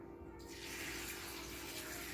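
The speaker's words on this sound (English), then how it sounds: "I'm going to add about 2 quarts of water" Water pours steadily from a tap into a soup pot of raw bean soup ingredients, a continuous close splashing rush that starts just after a brief quiet moment and runs on alone.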